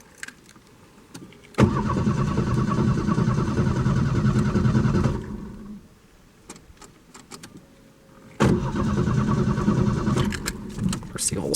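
A 1989 Ford Mustang engine cranks over on its first start attempt in eight years: two long bursts of steady, loud starter churning separated by a quiet pause.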